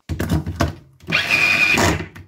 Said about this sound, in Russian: И все это перебиваем.